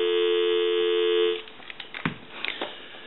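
A steady dial tone from a Snoopy and Woodstock telephone hums for over a second, then cuts off, followed by a few quiet clicks and taps.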